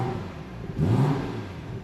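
Brief rev from the B58 six-cylinder of a BMW 340i Touring: a steady idle hum swells into a short, moderate engine rise and then settles back, heard up close with no talking.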